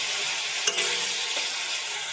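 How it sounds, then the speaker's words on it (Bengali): Spices cook down in a pan with a little water, a continuous dense hissing sizzle, close and steady, with one brief scrape near the start. "অল্প অল্প জল দিয়ে কিছুক্ষণ কষিয়ে নিতে হবে এইভাবে।"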